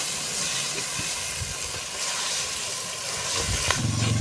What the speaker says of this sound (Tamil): இப்போ நம்ம நல்ல ஒரு ஜெல்லி கரண்டியை வச்சு இதை நல்லா வதக்குவோம்